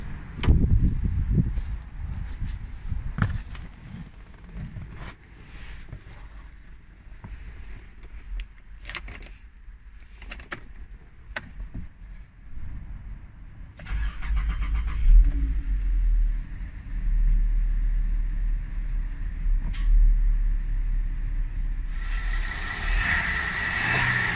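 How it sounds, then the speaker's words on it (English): Buick Enclave 3.6 V6 at a Warsaw service shop: keys jingle and cabin noises come first, then the engine fires up around midway and settles into a steady, fairly loud idle that continues to the end. "Let's start the engine and listen how it sounds."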